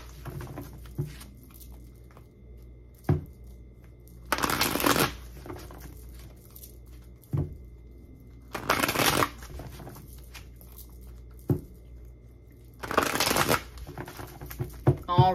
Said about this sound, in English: I'm going to shuffle all the cards out